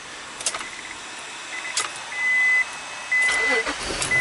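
An Acura 3.2 engine, repaired after a crank no-start fault with code P0335, cranks briefly and catches into a steady running note, with a couple of thin whistling tones riding over the engine noise.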